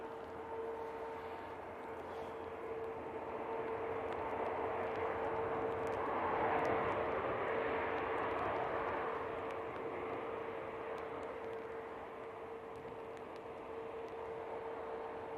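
An Air France regional jet arriving from Paris Charles de Gaulle at Manchester Airport makes a distant, faint engine roar that slowly swells and then fades.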